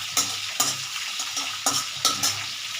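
Five-spice and bay leaf frying in oil while being stirred, with several distinct scrapes of a spoon against the pan over a steady close sizzle, no voices.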